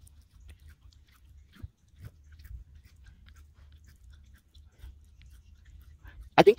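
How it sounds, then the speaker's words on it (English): Someone chews a mouthful of raw Spanish moss, with soft, irregular crunching and biting sounds close to the microphone over several seconds in a quiet room, ending in a brief louder burst. "I think to chew it right, like a cow chews it,"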